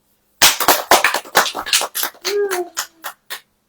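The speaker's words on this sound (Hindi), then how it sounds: "ताली बजाइए फिर दिखाएं" A church congregation claps at a Hindi-language Christian sermon service, a run of sharp, uneven hand claps that thins out into scattered claps, with a voice briefly heard near the end.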